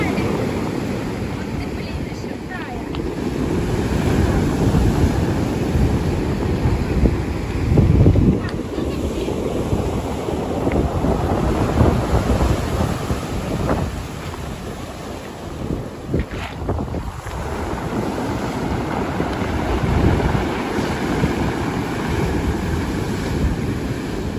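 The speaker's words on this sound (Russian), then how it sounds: "бушующее море очень опасно." Rough sea surges and crashes steadily in a storm at Volkonka on the Black Sea coast, under strong wind buffeting the microphone, a constant loud roar.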